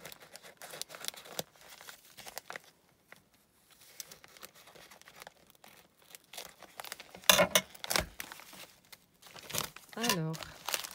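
Christmas wrapping paper on a present crinkles and tears in bursts of rustling, close and fairly quiet, with louder rips toward the end.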